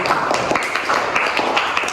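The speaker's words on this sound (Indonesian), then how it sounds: "bisa beri tepuk tangan untuk Bintang" A small group in a school group-guidance session claps their hands together, producing a busy, uneven patter of overlapping claps at moderate loudness, close by and without talking.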